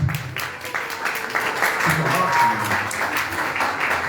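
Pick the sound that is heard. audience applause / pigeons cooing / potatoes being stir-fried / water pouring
audience applause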